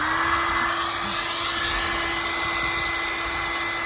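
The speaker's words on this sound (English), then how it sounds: "Just going to heat up the adhesive behind it." A heat gun blows a steady, loud hot-air whine with a constant tonal hum while softening the adhesive behind plastic side trim on a Vauxhall Astra GSI Mk3, running without pause.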